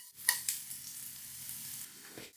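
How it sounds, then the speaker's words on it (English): Carrot and other vegetables for a Japanese veggie stir-fry sizzle in a pan as they cook until tender. The hiss is steady and close, with a few sharp ticks near the start. "Let it cook until it gets tender, stirring occasionally."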